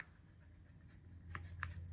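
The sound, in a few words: writing on paper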